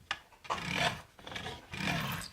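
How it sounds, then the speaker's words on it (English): A hand file rasping across guitar frets during a refret, with two long strokes of coarse, scratchy rubbing, close and alone. "bit of touch up with a hand file, and we'll be in good shape"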